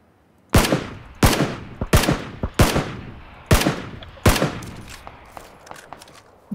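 A shooter game fires a series of sharp, loud shots, about seven spaced reports roughly a second apart, each with a short decaying echo, without talk.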